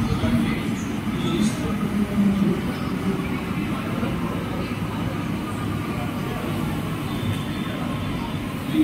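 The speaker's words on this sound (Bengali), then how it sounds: "এই যে এখন আমাদের মেট্রোটা চলে আসছে, আমরা মেট্রোতে উঠে যাব।" A metro train pulls into a Kolkata station, a steady heavy rumble with faint wheel noise and murmuring voices in the background.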